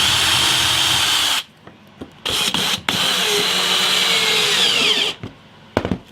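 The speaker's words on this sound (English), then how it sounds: "I can make my life a lot easier just by simply screwing that down" A power drill drives a screw into a wooden guitar body built from fence timber, whirring loudly in close bursts with short pauses between runs.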